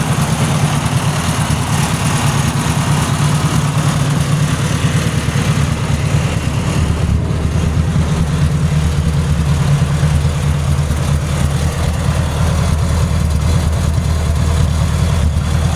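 A tractor engine idles steadily and loudly close by, a continuous low rumble with no talking.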